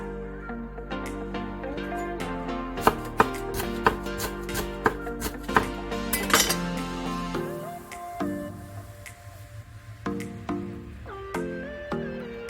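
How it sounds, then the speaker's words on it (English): A knife slices ingredients very thin for Lao Kuy Goog Lao, giving a run of sharp, close cuts in quick bursts that then thin out, all under loud background music. "cut very thin slice roll them together like this and just slice very thin just like that"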